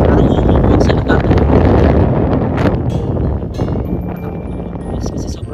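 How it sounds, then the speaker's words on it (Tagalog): Strong wind buffeting the microphone outdoors in a small Alberta town, heavy low gusty rumble that is loudest early and eases slightly toward the end, with occasional faint knocks. "kasi sobrang lakas ng hangin"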